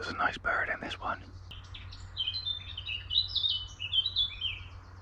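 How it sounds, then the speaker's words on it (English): A bird sings beside a country A road during a long-distance audax bike ride, a bright high twittering phrase rising after a brief burst of close talk, fairly near and clear over faint background hum. "There's a nice bird in this one."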